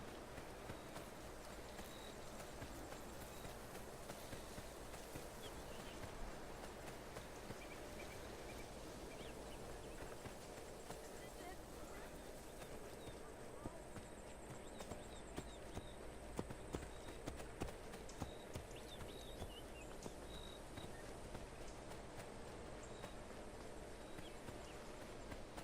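Horse hooves in Assassin's Creed Origins, set in ancient Egypt: a soft, steady clip-clop runs low and continuous for the whole stretch, blended into dense ambient game background with no talking.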